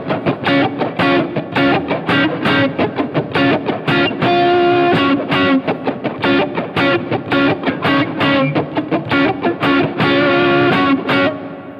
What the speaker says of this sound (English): that second guitar part in the chorus sounds like this